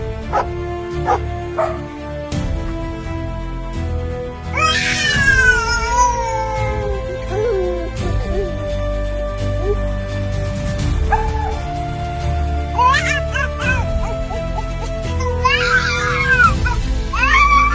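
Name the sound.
dog barking in an AI-generated video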